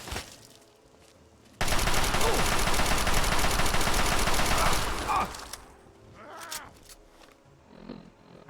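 Sustained burst of rifle gunfire from the video game Fallout 3, a dense, loud fusillade of rapid shots lasting several seconds before cutting off to quieter game ambience.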